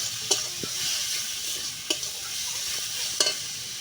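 Masala is stirred in hot oil in a pan with chili powder just added, giving a soft continuous sizzle broken by a few sharp scraping clicks of the spoon, close and without talk.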